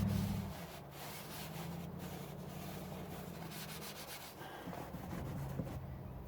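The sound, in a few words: screwing new oil filter on by hand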